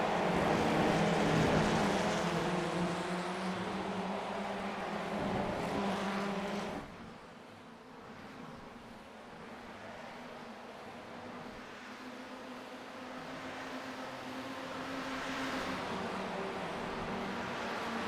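Formula Ford 1600 race cars lap Virginia International Raceway in an iRacing sim race, engines droning steadily with shifting pitch as several cars pass close, one loud burst fading around the midpoint before the engine noise builds again.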